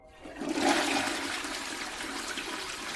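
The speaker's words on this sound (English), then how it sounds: "Then all of a sudden, the toilet in that stall flushed." A toilet in a school restroom stall flushes, a loud close rush of water that surges within the first second and then settles into a steady draining hiss, with no voices.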